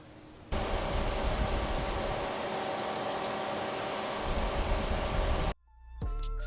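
PC case fans running in an NCASE M1 EVO case in flip configuration give off a steady, broadband whoosh for about five seconds. The sound then cuts off abruptly and fades back in more quietly.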